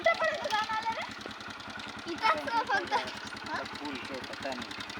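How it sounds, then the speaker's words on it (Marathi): A motorbike idles and putters close by with a steady rapid thumping beat as a child rides it, while people talk over the engine throughout. "अरे वा सोनू चालवतोय कुठे"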